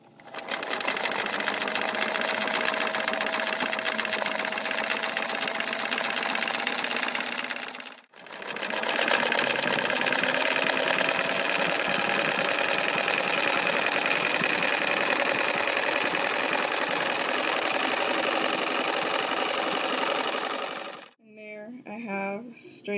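A sewing machine sews a straight stitch through fabric in a long, loud, steady whir, briefly stopping once near the middle and again near the end.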